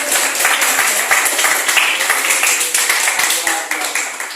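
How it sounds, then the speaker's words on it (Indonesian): A school class applauds with brisk, rhythmic clapping throughout, close and lively, with voices mixed in. "beri tepuk tangan yang meriah"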